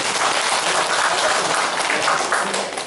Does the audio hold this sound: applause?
yes